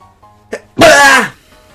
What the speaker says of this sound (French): Oh, j'en ai marre d'éternuer.